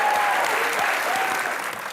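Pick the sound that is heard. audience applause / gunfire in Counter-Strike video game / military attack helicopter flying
audience applause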